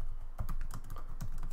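Keys clatter on a computer keyboard in a quick burst of uneven taps and clicks, close and moderately loud, as a line of text is entered.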